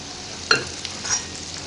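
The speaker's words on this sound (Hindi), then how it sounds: "इसी तरीके से हमें ये फ्राई करते जाना है।" Sweet gulgule frying in oil over a medium flame, a low steady sizzle with a couple of brief sharp clinks, close by and without speech.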